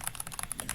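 Rapid computer keyboard key presses rattle off in a quick, even run of light clicks, close and fairly quiet, with no talk over them.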